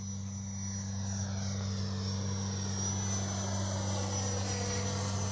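The steady high whine of an 80mm A-6 RC jet's motor passes overhead with landing flaps down, its pitch slowly drifting as it flies by at a moderate distance.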